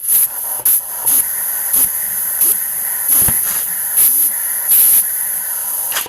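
Compressed air hissing in a workshop while a brake can is being taken apart, bright steady hiss with repeated louder short bursts about every half second to second.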